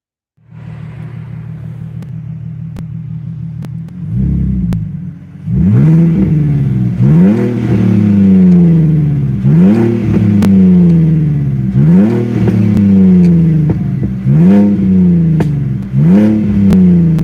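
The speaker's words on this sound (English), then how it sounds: "Maybe we start the car up." A BMW Z4 engine cranks and catches, then settles into a loud idle broken by a series of rhythmic revs, each rising and falling, close by.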